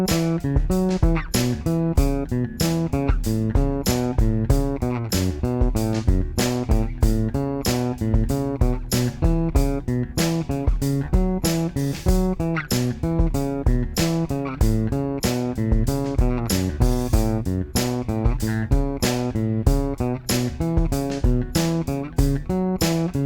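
Bass guitar plays major and minor pentatonic scale runs over a drum loop, steady and even with no pauses, notes and beats evenly spaced and prominent throughout, no voices.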